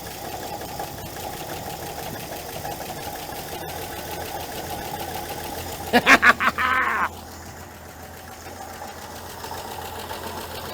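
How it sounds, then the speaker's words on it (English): An abandoned 1968 GMC truck engine runs after sitting 17 years, a steady rough idle throughout with a brief revving burst near the middle before it settles back. "It's running. Been sitting for, I don't know, 17 years, and it's running."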